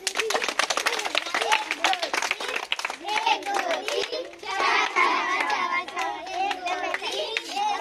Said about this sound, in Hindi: तालियां बजा लो